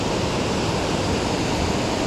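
Creek water rushes over a small spillway beside a road, a dense, unbroken roaring wash, close and steady throughout with no voices.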